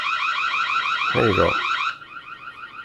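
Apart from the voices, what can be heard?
Reolink Argus PT Ultra camera audio alarm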